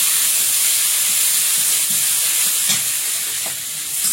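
Garlic paste dropped into hot oil seasoned with five-spice and bay leaf produces a loud, continuous hiss and sizzle close by, with a few faint stirring knocks.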